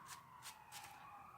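A faint siren drifts in from traffic on a nearby main road, a wavering tone that persists through the whole moment behind light rustling.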